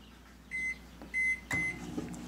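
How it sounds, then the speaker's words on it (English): Microwave oven set to heat canned goat meat with water, giving three short, clear keypad beeps in quick succession, followed by a faint start-up thump and hum. "We're gonna nuke it for 3 or 4 minutes."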